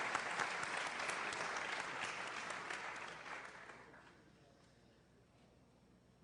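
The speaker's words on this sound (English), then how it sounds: "Big round of applause for Mr. Jeff King." An audience at a talk gives a round of applause to a speaker, loud at first and then gradually fading out over several seconds, with no speech over it.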